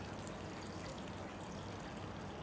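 Fuel pours into a Westinghouse WGen3600v generator, a steady unbroken liquid rush and trickle from start to end, close and fairly quiet, with no voices.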